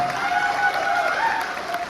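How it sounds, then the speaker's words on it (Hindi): An indoor audience at a business seminar breaks into applause, a dense, even patter of many hands clapping at once, close and sustained throughout. "मैं चाहूंगा इन सब के लिए एक बार जोरदार तालियां दो"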